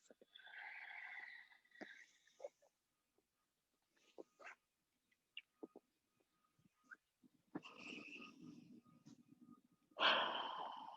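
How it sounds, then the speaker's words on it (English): Slow, deep breaths during a yoga practice, several breathy inhales and exhales in separate bursts with quiet gaps between, fairly close and soft, ending on a louder, fuller breath. "About 5 more breaths."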